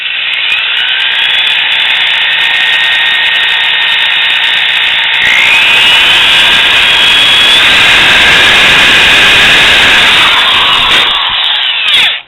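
A power drill whines loudly and steadily, its pitch shifting partway through as the bit bites in, running continuously for about twelve seconds before stopping.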